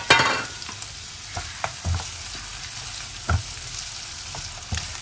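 Onions and other ingredients for sambal goreng frying in prawn-flavoured oil in a pan, a steady low sizzle with occasional stirring scrapes and clinks, close and moderately quiet, no talking.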